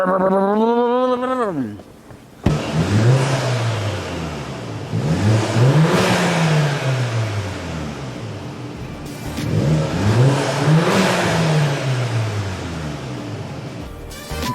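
A Volkswagen Golf 7 GTI on its stock exhaust revs repeatedly, each rev swelling and falling back, after a voice briefly imitates the engine sound at the start; the engine is loud and close.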